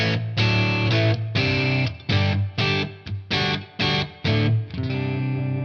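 An electric guitar on its middle single-coil pickup, through a Victory V30 amp tone model, plays a series of bright, clean chords, strummed in short rhythmic bursts with brief gaps, close and clear.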